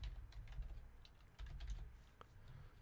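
Quiet, rapid typing on a computer keyboard while filling in a web survey form, with irregular light key clicks close by and no voices.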